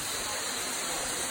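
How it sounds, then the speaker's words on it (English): A dense, steady rushing roar of falling water from a waterfall in Antalya, Turkey, broadband and constant throughout with no talk. "I can see the waterfall from here."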